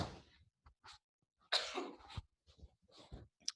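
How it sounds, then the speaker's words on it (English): A person sneezes indoors, a sharp burst followed by a short breathy tail, set among quieter sniffs and throat noises, with no talking. "I'm getting ready to sneeze"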